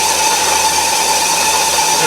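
Metal lathe turning at 900 RPM with Dickson-type quick change tool holders, taking a light cut on metal, a steady whirring hum with a thin high whine, continuous and close.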